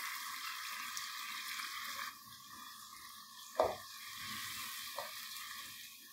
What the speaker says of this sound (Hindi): अब हम दही डाल देंगे जिसमें हमने मसाले डाले थे।